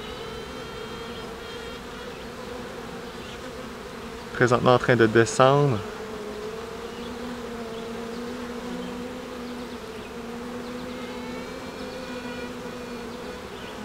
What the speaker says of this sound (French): elle fait des bruits, elle chante pour indiquer qu'il y a déjà une reine dans la colonie